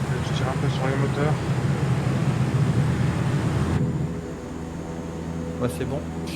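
Aircraft engines in Flight Simulator 2024 drone steadily as power is pulled back, a continuous low hum with a voice talking over it, the tone dropping and thinning partway through.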